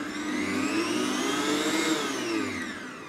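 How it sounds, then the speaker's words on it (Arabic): A steady, loud motorized whirring of a blender mixing dry ingredients for olive-filled bread runs throughout with a slight rise and fall in pitch, with no talking. "حركة بسيطة في الخلاط لتختلط كل هالمكونات مع بعضها"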